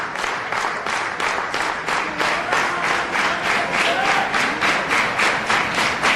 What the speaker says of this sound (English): Crowd encouraging these two men on.